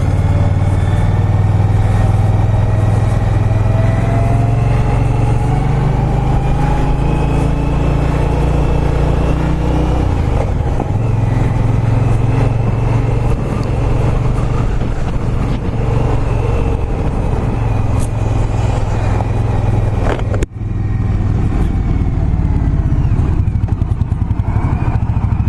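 An Indian Scout Bobber motorcycle engine runs steadily and loud while riding, a continuous low droning rumble with road and wind noise, unbroken except for a brief dip near the end.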